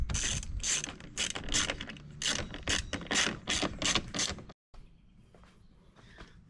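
Quick bursts of ratcheting and clicking as screws are driven in while a high wing spoiler is fitted to a 2022 Corvette C8, a rapid run of close, sharp strokes that stops abruptly, leaving faint handling noises.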